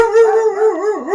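Dogs howl loudly and close by, a sustained wavering howl that rises and dips without any talking.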